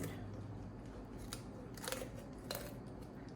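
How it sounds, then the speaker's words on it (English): Kitchen shears cutting the spine out of a whole chicken for spatchcocking, a few faint crunching snips at close range over low background hum. "You're going to go in with your kitchen shears and you're going to cut out this spine."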